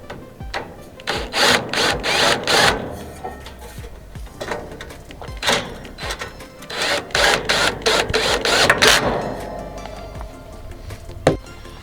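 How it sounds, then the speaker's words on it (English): Small screws are tightened by hand with a little screwdriver while assembling a Lava Heat Italia patio heater, producing bursts of close scraping and ratcheting clicks separated by pauses, with a sharp tap near the end. "And we'll get our little screwdriver."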